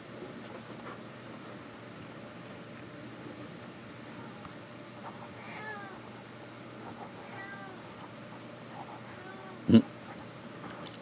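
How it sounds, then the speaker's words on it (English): A cat meows several times at a distance, soft drawn-out calls over a low rumbling background, with a brief sharp knock near the end. "Missy the cat is calling for us."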